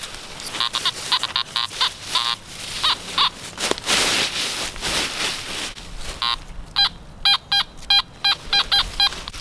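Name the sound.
metal detector loud signal over iron strapping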